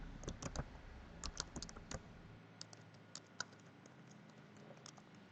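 Quiet keystrokes on a computer keyboard as a road name is typed into GIS software, a few quick bursts of light clicks with short pauses between them and a soft background hiss.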